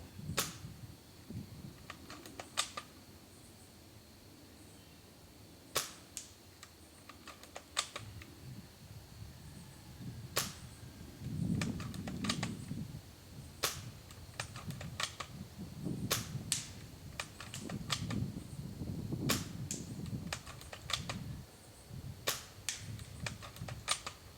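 A TSD L96 V2 airsoft sniper rifle fires at a target about 80 feet away, giving sharp isolated snaps spaced several seconds apart over a low outdoor background, with no voices.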